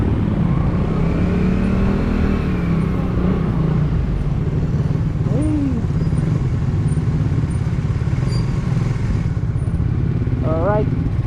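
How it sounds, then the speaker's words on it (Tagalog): Rush hour road traffic in Lipa near City Hall rumbles continuously, with motorcycles and cars passing close, engines revving and a brief horn-like tone, loud and dense throughout. "Rush hour kaya traffic."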